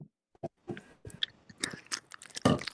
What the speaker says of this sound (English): I've got a gobstopper in my mouth and I'm just like moving it around